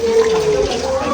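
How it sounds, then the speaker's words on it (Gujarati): Hot spring water at Unai gushing from a tap, a brief steady splashing flow heard up close with a voice speaking over it. "જો આ છે ઉનાઈના ગરમ પાણીના કોલ"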